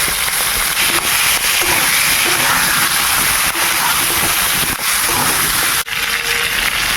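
Potatoes fry in hot oil after the fish, a loud, dense, close crackling hiss that holds steady, broken by a few sharp pops.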